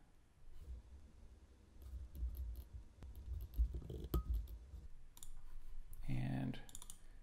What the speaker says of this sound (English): I'm just going to click download, direct download